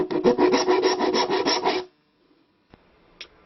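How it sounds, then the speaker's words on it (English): Round profile file rasping along the curved wooden body of an Anglo-Saxon lyre, a steady run of rapid back-and-forth strokes for almost two seconds, then quiet with a couple of faint knocks. "follow this up using a round profile file, which can follow the curve"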